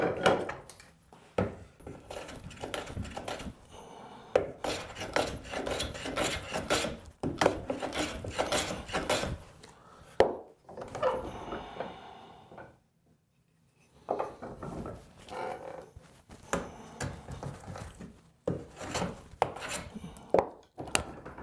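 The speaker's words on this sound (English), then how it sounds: "you can plane these off and it makes kind of a pretty little item on your wood" Hand plane shaving wooden nails flush with a wooden board, heard as repeated rasping strokes in bursts of a second or two, separated by short quiet pauses, close and moderately loud with no talking.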